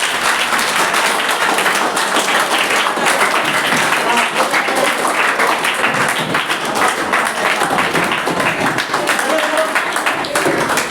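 A classroom of children claps steadily in a sustained round of applause, dense and close, with voices mixed in throughout.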